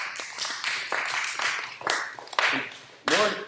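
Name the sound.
audience applause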